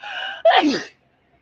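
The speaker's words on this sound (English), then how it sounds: "feel like I'm about to sneeze" A single sharp sneeze, with a tense voiced build-up followed by a loud explosive burst, close to the mic, then silence.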